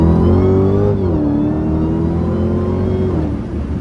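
An 800 hp Dodge Hellcat pulls hard under full throttle, its loud, steady engine roar rising in pitch through the revs with a brief dip at a shift, heard up close from inside the car.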